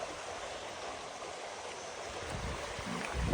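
Small creek in the woods flowing steadily, a soft continuous wash of running water that stays even throughout, growing slightly louder toward the end, with no voices.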